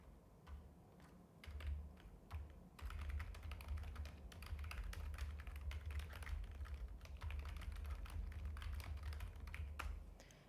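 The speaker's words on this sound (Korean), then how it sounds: "그대로 타이핑 해주시면 되겠네요" Rapid, steady typing on a computer keyboard close by, clicking keys in continuous bursts over a low hum, with no voices.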